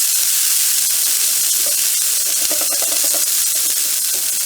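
Grated coconut roasting in a hot pan for Kannur-style unnakaaya: a loud, continuous sizzling hiss with faint stirring underneath, and no voices.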